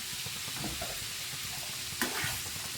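Brief sizzling and stirring of onions, coriander leaves and curry leaves frying in a pan for Andhra-style radish pachadi, a soft continuous crackle with a sharper scrape near the end.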